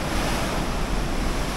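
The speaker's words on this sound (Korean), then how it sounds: "삼킬 듯한 파도입니다" Huge ocean waves crash continuously on the Busan coast, a loud, dense roar of surf close by, mixed with wind noise buffeting the microphone and no voices.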